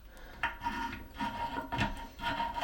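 A 14-inch pipe wrench works loose a tight toilet fitting, making close rasping, grinding scrapes in three or four uneven bursts with short pauses between.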